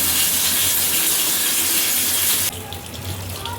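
Clothes being washed by hand under running water from a tap in a home, a steady loud hissing gush that drops to a softer splashing flow partway through.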